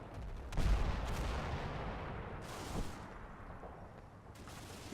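Area gunfire from a Panther tank in the Combat Mission World War II video game, muffled distant bursts and a low thud rolling under a steady rumbling battle ambience, fairly faint.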